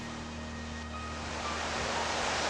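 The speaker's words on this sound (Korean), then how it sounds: "빙하가 녹은 물이 산 여기저기를 뚫고 나와 폭포를 이룹니다." Steady broadband rush of glacier meltwater spilling down as a waterfall in the green Himalayan mountains, a continuous close roar that swells slightly louder toward the end, with no voices.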